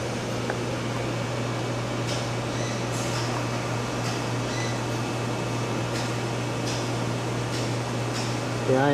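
Cooling unit for the cabinet of a Daewoo DMV-3016 machine running, a steady loud fan-like whir with a constant low hum, plus faint intermittent ticks over the drone.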